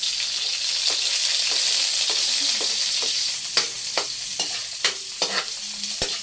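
Chopped onion sautés in a frying pan while being browned for a vegetable dish, a steady close sizzle with intermittent scraping stirs growing more frequent toward the end.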